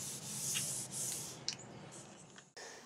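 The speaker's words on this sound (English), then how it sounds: "I'm going to clean the ways. Got some WD-40, I'm going to use Scotch-Brite." Coarse Scotch-Brite pad scrubbing the ways of a Craftsman Atlas 12-inch lathe with WD-40, a steady close rasping rub in long back-and-forth strokes with brief pauses and a sharp tap near the end.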